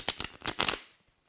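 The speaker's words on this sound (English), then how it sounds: "Shuffle properly because I keep getting the same cards again." A small Morgan Greer tarot deck is shuffled by hand close up, giving a quick run of papery riffles and snaps that fade into a few soft taps.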